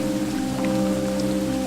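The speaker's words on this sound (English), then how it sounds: "It's raining." Steady rain falling in a dense, even hiss throughout, with a low constant hum underneath and no voices.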